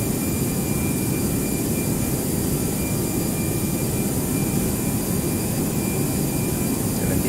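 A Toliss A319 airliner in the X-Plane 11 flight simulator roars steadily in reverse thrust on landing, a loud, dense, unbroken jet engine rumble and hiss with no voices over it.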